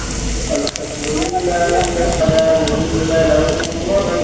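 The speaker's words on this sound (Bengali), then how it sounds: "কড়াই গরম হয়ে গেছে তেল দিয়ে দেব এর মধ্যে জিরা দারুচিনি এলাচ লবঙ্গ একটু দুই টুকরা তেজপাতা দিয়ে দেব" Cumin, cinnamon, cardamom, cloves and bay leaf sizzling in hot oil in a pan, a steady close crackle with brief pops over kitchen background noise.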